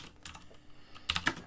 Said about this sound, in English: then you can start typing again